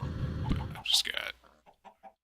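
Chickens cluck in a Minecraft Sky Factory modpack world, a short burst of game fowl calls with a few quieter clucks trailing off after.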